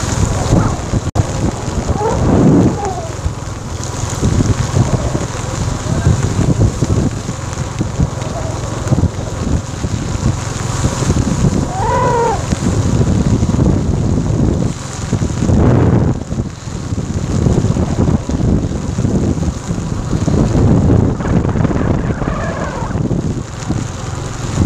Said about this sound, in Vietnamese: đang mưa nặng hạt, cả cái hạt mưa đang đập vào mắt rất là đau